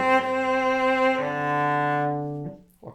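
Solo cello plays a short phrase from a Popper study with even bowing: a couple of smooth, sustained notes of steady loudness, close and clear, ending in a quick fade.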